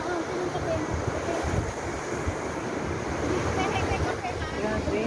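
Big ocean waves crash and roar continuously at Shek O beach at high tide in bad weather, a dense wash of surf with wind buffeting the microphone, faint voices mixed in.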